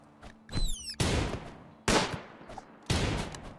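Three heavy single gunshots in RimWorld, each a loud booming crack with a decaying tail, spaced about a second apart, preceded by a short chirping sound and no talking.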